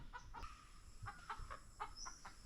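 A hen clucks after laying an egg up high on a Philippine farm, giving a series of faint, short, repeated clucks at an uneven rhythm over a quiet outdoor background.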